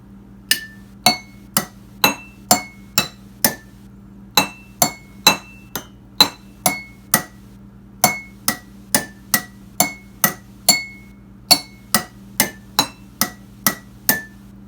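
Notes of a pentatonic scale struck on a water-filled instrument, about two dozen bright, ringing strikes at a steady, even pace with shifting pitches, each decaying quickly; clear and close, with no voices.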